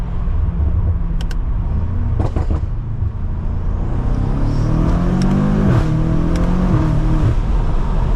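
A 700 hp BMW F90 M5 Competition accelerating hard, heard from inside as a loud constant roar with the engine note climbing steeply partway through.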